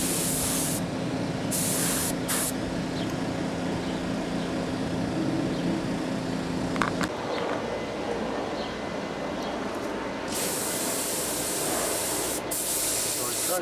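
Spray paint hissing onto a model airplane fuselage outdoors, a steady broadband spray in bursts with brief gaps, fairly close, with light wind noise and no talking.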